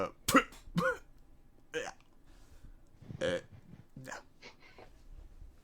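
A video game character's several harsh coughs and throaty hacking bursts spaced across a few seconds, close and fairly loud, with some vocal sounds between them.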